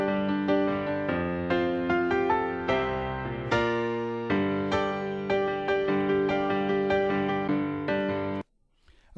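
Solo piano recording with light EQ boosts and gentle compression, a sustained flowing passage of repeated chords and melody that stays full and even before cutting off abruptly near the end.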